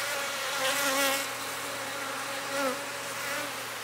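Honey bees buzzing around an opened hive during a split inspection, a dense, close, continuous hum with wavering pitch and a few louder swells as bees fly past, with no talk.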